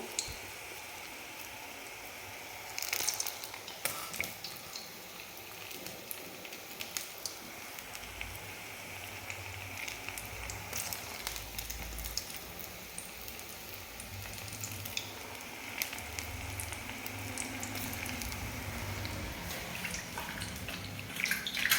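Bonda batter dropped by hand into hot oil for a rainy-season snack, a continuous close sizzle and crackle with occasional louder bubbling bursts and clinks throughout.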